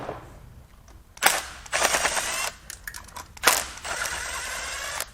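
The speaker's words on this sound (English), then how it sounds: "I'm just letting bolts fall" Bolts and loose parts from a torn-down Mercedes OM642 3.0L turbodiesel V6 dropped onto a hard surface, two bursts of rattling metallic clatter about two seconds apart, each with a sharp initial hit and scattered jingling, with quiet gaps between.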